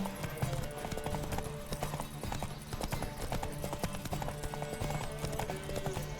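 Rapid galloping horse hoofbeats in the video game The Witcher 3: Wild Hunt drive steadily beneath a busy backdrop, with a faint voice mixed in.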